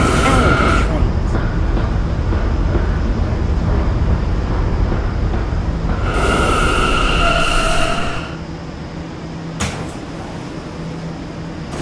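A Roblox R179 subway train runs with a steady loud rolling rumble and whine that drops in level partway through, with a short clunk near the end, while a voice talks over it.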